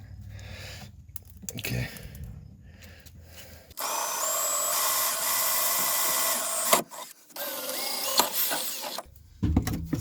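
Power drill boring a hole under a 2002–2005 Mitsubishi Eclipse for a U-Haul trailer hitch, a loud steady whine running for about three seconds, then a second burst after a short pause, with quiet rustling before.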